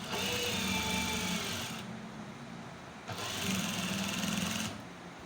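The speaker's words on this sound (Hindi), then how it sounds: "फिर वो इस जगह पर रख के इस तरह से यूँ स्टिचिंग कर देनी है" A sewing machine stitches a strip onto a ladies' kameez in two quick bursts of whirring, rattling needle action separated by a short pause.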